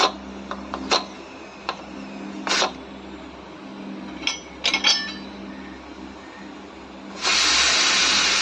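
A hot pressure cooker after boiling quinoa and potatoes gives short spurts of hissing steam and light metallic clicks, then a loud continuous steam hiss near the end.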